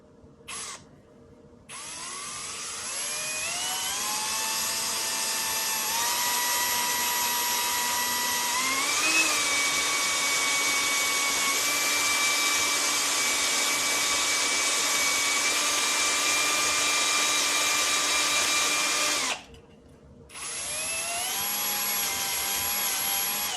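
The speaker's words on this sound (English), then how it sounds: "The next thing what I need is a 6mm drill." A power drill with a 6mm bit bores a hole in a KTM 690 Enduro R luggage rack. The motor whines loud and sustained, its pitch shifting as it loads up, and it briefly stops and restarts near the end.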